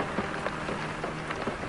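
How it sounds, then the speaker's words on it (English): Steady rain falls in the virtual reality game Negotiator VR, a dense, continuous patter of drops on surfaces filling the scene at moderate loudness, with faint low rumbling underneath. "It sure is raining."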